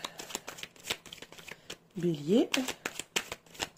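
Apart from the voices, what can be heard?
shuffling tarot cards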